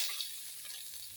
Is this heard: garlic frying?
yes